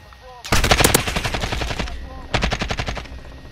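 Rapid bursts of AK-47 automatic fire in Call of Duty Modern Warfare, loud and close, one long burst followed after a short pause by a second burst.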